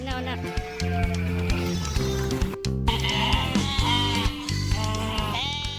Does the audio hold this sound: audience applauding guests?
no